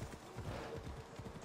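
Horse hooves in the video game Assassin's Creed Odyssey, a quiet, soft rhythmic clopping of footfalls in a steady gait, faint and continuous.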